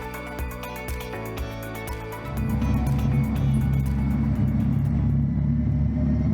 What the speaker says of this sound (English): The motors run for the very first time on the chassis dynamometer.